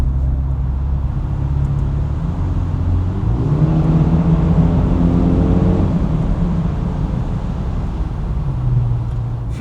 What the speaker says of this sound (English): The exhaust is just wild on this car.